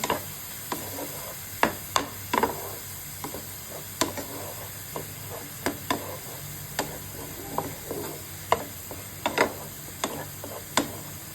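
Okra sabzi (bhindi) cooks in a pan after turmeric powder goes in, a faint steady sizzle broken by sharp ticks and scrapes of stirring at irregular intervals, with no voices.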